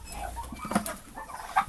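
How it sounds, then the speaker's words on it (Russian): Soft chicken clucks and short calls come in brief bursts over quiet farmyard background, with one louder squawk near the middle. "И с ними здесь сидит немножечко курочек."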